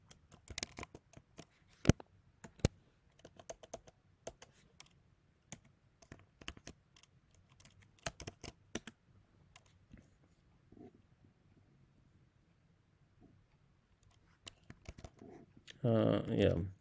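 Keystrokes tap on a computer keyboard in quick, irregular bursts of sharp clicks, close and quiet, pausing between runs, with a brief louder noise near the end.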